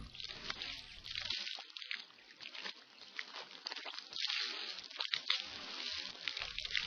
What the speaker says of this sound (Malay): Sunat berkumur-kumur sebanyak 3 kali bagi membersihkan mulut daripada sisa-sisa makanan.